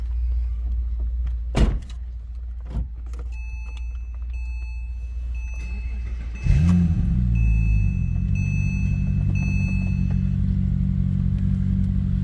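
A 2007 Porsche Cayman S engine cranks and fires at about six and a half seconds, then settles into a steady, close idle rumble, with faint cabin chimes and clicks beforehand.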